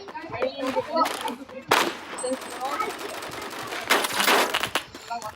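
Rapid bursts of automatic gunfire in the Roblox game Phantom Forces, with repeated loud volleys and clattering shots throughout, while a voice talks over the action.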